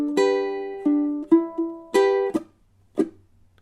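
A ukulele plays measure 9 of a blues riff: a few plucked notes and chord strums with sliding pitches, close and clear, separated by short gaps, ending in a brief muted strum.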